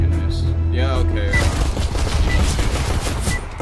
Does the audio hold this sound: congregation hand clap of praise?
no